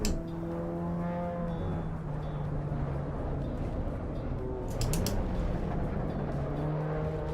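Race cars lapping in the Assetto Corsa Evo sim racing game, with steady engine drone and gliding pitch sweeps as they corner and brake, loud and continuous throughout.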